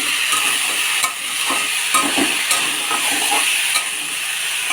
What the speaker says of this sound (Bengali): তো লবণ আর হলুদ দিয়ে একটু ভাজা ভাজা করে নেব